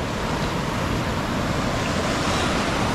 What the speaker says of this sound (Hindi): पानी का फ्लो बहुत तेज है इधर पे